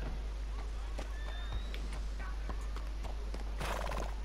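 In Red Dead Redemption 2, a horse's hooves clop and a brief whinny rings out against a constant low ambient rumble, with a rustle of movement and a burst of noise near the end.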